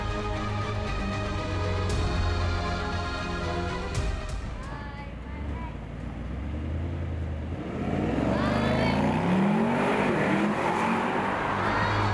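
A Mercedes-Benz SL 55 4Matic+ driving past with a loud, steady engine drone and a rising rev, a strong and close sound that fills the whole stretch with no voice over it.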